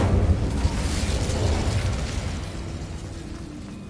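A burst of fire from the Incendio spell in a Harry Potter video game: a loud, roaring whoosh with deep rumbling that flares at the start and slowly fades over a few seconds, with no voices.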